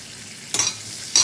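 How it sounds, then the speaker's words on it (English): Onions sautéing in melted butter in a hot pan on a high flame, with a steady low sizzle and two brief louder bursts of stirring or scraping, close by and with no talk. "Saute it on a high flame."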